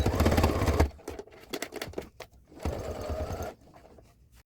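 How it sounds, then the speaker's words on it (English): A sewing machine stitches fabric binding along the rim of a woven fabric basket, running in a steady close burst, pausing with a few short stitch bursts, then running again before stopping. "I'm going to sew again over to catch the back of the binding and give it a nice finished look."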